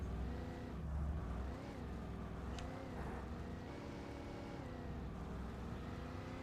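A steady engine drone comes from a car in the video game Alan Wake, a low continuous rumble with mild swells and no talking over it.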